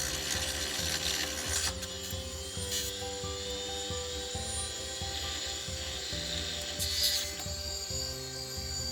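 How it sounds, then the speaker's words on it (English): Hard disk drive motor spinning its platters up toward 7000 RPM, a whirring mechanical drone with layered steady tones and faint ticking, constant and close throughout. "When applying power, the motor will spin the spindle to around 7000 RPM."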